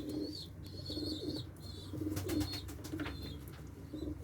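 Several Çorum pigeons coo softly in a coop in repeated low, rolling phrases, with a few higher chirps and a brief flutter of wings in the background.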